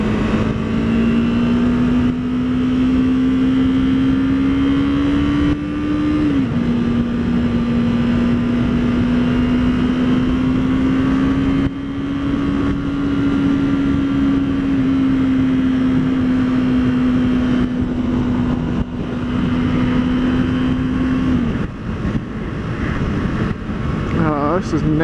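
A 2015 Yamaha R3 motorcycle engine drones steadily while riding and cornering, with pitch sliding up and down through throttle changes under constant heavy wind rush.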